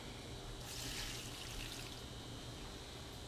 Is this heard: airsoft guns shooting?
no